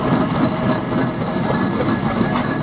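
A steam traction engine at a steam rally at Tinkers Park gives off a steady, loud hiss of steam over a continuous rumbling mechanical background, close by and constant throughout.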